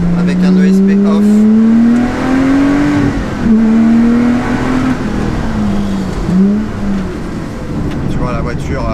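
A Lotus Exige 350 Sport accelerates hard in race mode with ESP off. Its engine note climbs loudly, drops at quick gear changes and climbs again, heard close from on board.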